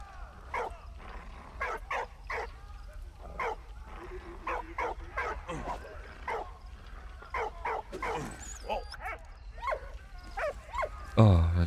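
A dog in the game Valiant Hearts: The Great War barks repeatedly in short yips and whimpers, fairly faint and spaced irregularly, with someone talking in German over it.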